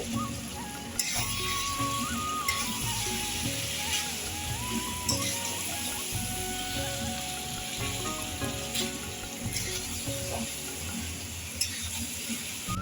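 Mutton sizzles in a pan with five slit green chillies, a steady close crackle and spitting of hot oil, with scraping stirs and occasional sharper pops throughout.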